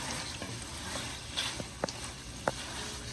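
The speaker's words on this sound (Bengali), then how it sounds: "আমি চিকেনগুলোকে একটু ভালো করে নাড়িয়ে চাড়িয়ে দেব।" Chicken for haleem is stirred in a pan: a quiet background sizzle is broken by a few soft scraping clicks from the spoon.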